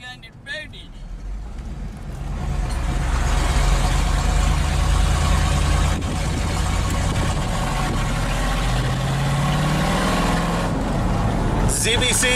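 A truck with a newly fitted exhaust idles loudly and close by. It gives a rough, steady rumble with a slight rise in revs partway through, while a person talks over it.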